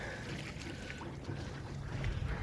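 A sailboat, the SV Pegasus, moves through water under sail, heard as a soft rush and slosh of water with wind buffeting the microphone, low and steady for a couple of seconds.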